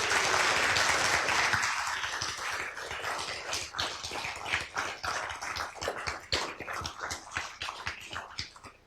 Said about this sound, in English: Please, everyone, join me in giving Dr. Carty a well-deserved round of applause.